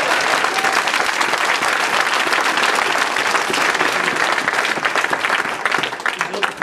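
Dense, steady applause from a crowd at a district council meeting fills the whole stretch, loud and continuous before thinning slightly toward the end.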